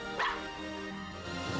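A dog barks and yips in a short burst near the start, the sound sitting over a steady bed of trailer music that carries on after.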